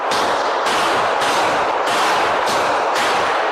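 Loud, echoing gunshots at police cadet shooting training fire in a steady series, about six blasts roughly half a second apart, each ringing into the next.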